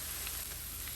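Freshly ground whole spice masala sizzles in hot oil for a lamb roast, a dense, even hiss of frying that stays steady and close throughout the short moment.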